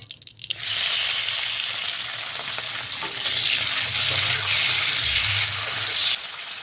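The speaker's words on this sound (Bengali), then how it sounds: "ওই তেলের মধ্যে এবার আমি চিংড়ি মাছগুলোকে ভেজে নেবো" Prawns sizzle steadily in hot oil in a pan, a loud continuous frying hiss that runs nearly the whole time with a few low clunks of stirring, no voices.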